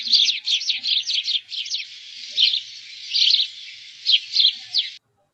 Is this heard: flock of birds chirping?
yes